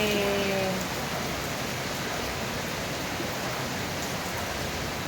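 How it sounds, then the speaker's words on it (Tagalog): Heavy, continuous rain pours down in Cavite during a week of nonstop rainy weather, a dense steady hiss, close and unbroken, with a faint tonal sound fading out early. "Isang linggo ng ano, tuloy-tuloy ang ulan."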